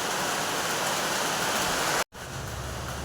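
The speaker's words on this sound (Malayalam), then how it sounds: "ഇന്ന് നല്ല കാലാവസ്ഥയായിരുന്നേ പക്ഷെ ദാണ്ട മഴ പെയ്യാൻ തുടങ്ങി" Steady, dense rainfall hisses close by, broken by a brief moment of silence before the downpour continues.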